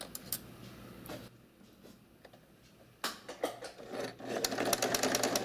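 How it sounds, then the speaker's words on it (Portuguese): A sewing machine stitching fabric for a basic zippered pouch, close and clicking, with a few short starts before a sustained rapid run of stitching. "eu vou começar a costurar"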